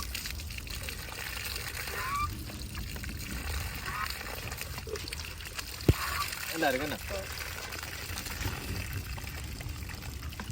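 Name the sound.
water pumped from a newly installed tube well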